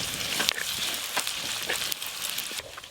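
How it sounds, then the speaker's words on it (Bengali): Chopped onion frying in hot oil for a homemade desi chicken curry, a steady close sizzle with a few sharper crackles and spatters and no talking. "গরম তেলে অল্প করে পেঁয়াজ কুচি দেব"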